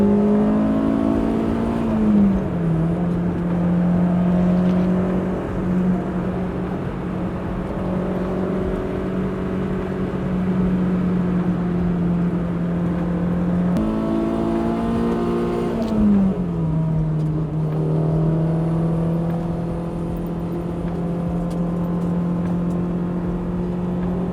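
Honda S2000 sports car engine, track-prepared, droning steadily under load on an open road, with pitch rising then settling through two gear changes; loud, close and continuous with no talk.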